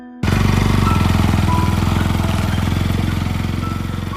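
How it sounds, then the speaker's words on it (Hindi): A motorcycle engine kicks in suddenly, loud and near, its throbbing putter holding steady and fading only slightly. "दूर से बाइक की आवाज आई।"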